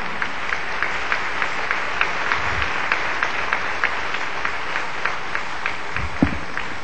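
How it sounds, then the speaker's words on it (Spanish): A church congregation claps in steady unison rhythm, a loud, even beat of many hands repeating about three times a second, with a couple of low thumps underneath. "Y dale un aplauso a Jesús"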